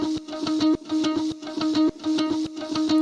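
Plucked guitar notes recorded one by one and stitched into a sample, playing a bright, choppy repeating melodic pattern with steady rhythm and short gaps between phrases, heard alone.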